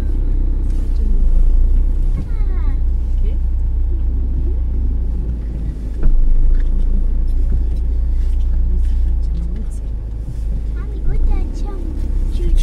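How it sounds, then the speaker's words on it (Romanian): Road traffic with cars driving past at rush hour, a constant low rumble of engines and tyres close by, with a child and an adult talking over it. "Ce se întâmplă cu traficul ăsta?"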